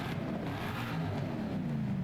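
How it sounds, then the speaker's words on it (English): A tuned drift car revs in Forza Horizon, its engine holding a loud, steady, buzzing roar for about two seconds with no voices. "Let's go ahead and give her a rev."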